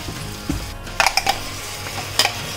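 Ground masala paste sautéing in a pan for chicken biryani, a low sizzle broken by a few sharp metallic spoon scrapes and clinks against the pan, close by with no talking.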